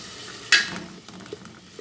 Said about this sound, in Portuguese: Vou mexer mais um pouco.